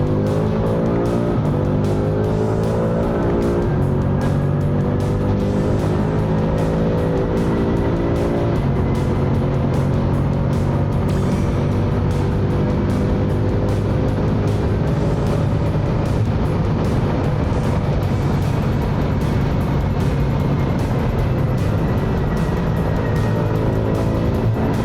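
A BMW M5 engine roars continuously under hard driving, climbing through gears with repeated rising pitch sweeps, occasional tire squeal, loud and steady throughout.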